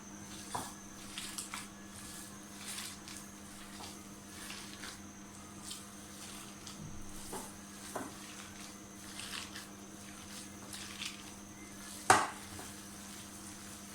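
Hands mixing spiced raw minced beef in a bowl for kebabs, with faint, soft squishing and stirring and occasional light clinks of dishware, quiet and close, ending in one sharper knock.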